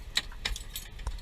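Keys jangle close by in a few quick metallic bursts, bright jingling clinks separated by short pauses with faint low rumble beneath.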